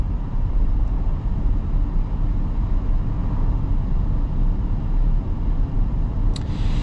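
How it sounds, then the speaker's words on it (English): The turbocharged four-cylinder engine of a 2025 Audi Q7 45 Premium Plus on the move: a steady, low cabin drone with road rumble, held at an even level throughout with a brief faint click near the end. "Now this turbocharged 4-cylinder is very torquey at the lower RPMs"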